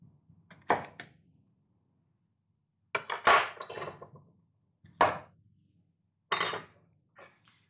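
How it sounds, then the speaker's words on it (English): A cucumber is cut into equal pieces, alternating between a rippled decorating knife and a chef's knife, giving four short bursts of crisp blade-on-board chopping separated by quiet pauses. "I cut equally sized pieces alternately using a decorating knife and a chef's knife."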